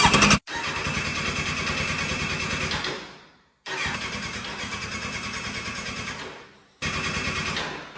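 A Kawasaki Z1000 motorcycle being restored after a crash is cranked in three loud, close bursts of churning starter and engine noise. Each attempt stops abruptly or dies away before the next, and the engine does not catch.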